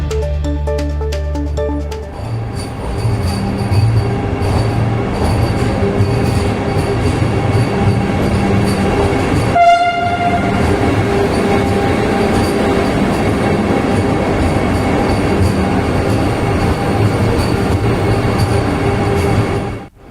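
Vande Bharat Express train arriving at Rani Kamalapati railway station in Bhopal, a steady loud rumble of rolling carriages with a brief squeal near the middle, continuous throughout with no talk.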